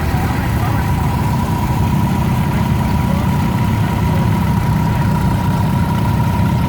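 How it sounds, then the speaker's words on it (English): Steady low rumble of old gas tractor engines idling together in a parade, Oliver tractors featured, continuous and loud with no pauses, a faint whine running through it. "it looks like we have some different tractors today"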